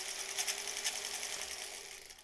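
A sewing machine stitches a fabric face mask with ties, a steady close mechanical whir at low level that continues alone throughout.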